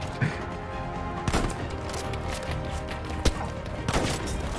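Sniper rifle gunfire in Battlefield V, a few sharp isolated shots spaced across a steady background of distant battle noise, with no talking.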